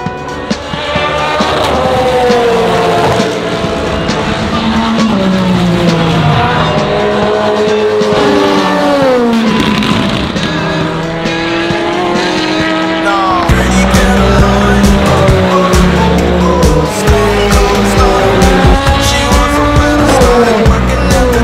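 Race cars at the Le Mans 24 Hours, in the centenary year of 2023, roar continuously at high volume. Engine notes rise and fall as the cars pass and shift, with a deeper, heavier engine tone taking over partway through.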